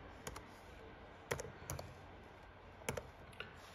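Sparse computer keyboard typing, a few quiet key clicks spaced out in small clusters against a low background hiss, no voices.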